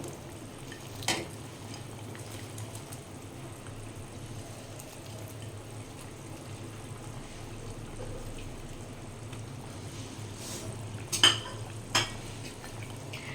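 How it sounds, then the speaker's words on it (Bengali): Fried mourola fish and potatoes simmer in a curry gravy with a continuous low bubbling and faint sizzle, broken by a few sharp utensil clinks near the end, with no voices. "ভেজে নেওয়া মাছগুলো ঝোলের মধ্যে দেওয়ার পর 2 থেকে 3 মিনিট মতো ভালো করে আমি ফুটিয়ে নেব"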